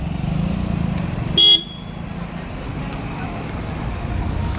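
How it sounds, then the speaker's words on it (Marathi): Vehicles pass steadily on a busy Cunchelim road with a dangerous pothole from a leaking pipeline, making a continuous low rumble of nearby traffic with one short, sharp horn toot early on. "आतां पळया कशी गाडी धाडावता पळय ती हांगासर"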